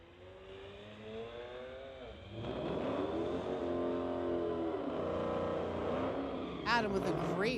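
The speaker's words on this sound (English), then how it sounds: "2018 Audi S4 in the TCS lane, going against Dorian Unkovic in his 2008 33" A 2018 Audi S4 and a 2008 BMW 335i launch off the line at a street-legal drag race. Engine note swells into a loud rising rev at the launch, with another sharp climbing whine near the end, under crowd or commentary voices.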